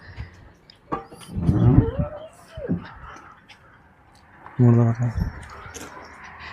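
A cow moos twice on a dairy farm of Rajasthani cows, a long low call and then a shorter one a few seconds later, amid faint outdoor background noise.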